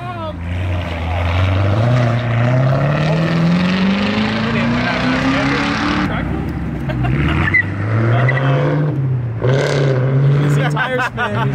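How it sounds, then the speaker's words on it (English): A Ford Shelby GT500 pulls away at a car meet, its loud V8 engine climbing steadily in pitch through the gears, dropping back, then revving again close by while people talk over the roar. "That GT500 sounds mean."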